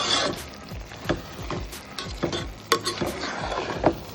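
A spoon stirs tomato rice in a pan, making soft scrapes and occasional sharper taps at an uneven pace over a faint background hiss, with no voices.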